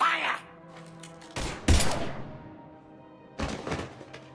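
Gunfire in the game Mass Effect 3, a few sharp loud shots and thumping impacts in separate bursts with gaps between, faint effects and voices underneath.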